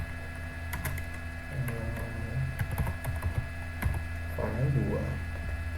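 Linux commands being typed on a computer keyboard: irregular light key clicks and taps over a steady electrical hum, close and without speech.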